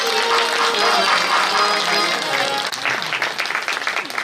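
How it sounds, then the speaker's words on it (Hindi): Applause from the audience at a Hindu Bhagwat Katha religious discourse, welcoming an arriving pandit: dense, steady clapping fills the first half, then thins into scattered claps as the sound settles. "आप लोग ताली बजाकर जोरदार पंडित जी का स्वागत करो।"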